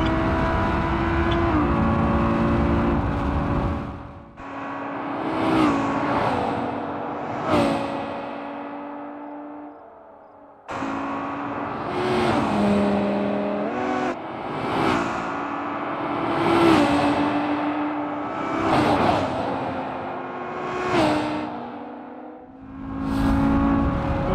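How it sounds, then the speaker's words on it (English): A high-revving racing car engine in BeamNG.drive roars continuously, pitch rising and dropping through gear shifts, loud and close with no talking. "set it to the replay audio so we can just listen to the car."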